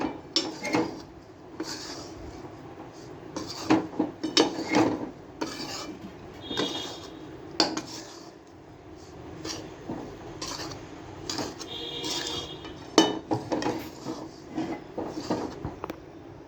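A spoon scrapes and clinks against a pan while a gunda pickle mixture is stirred on a switched-off stove, giving steady metallic knocks and scrapes, close and fairly loud, with no talking.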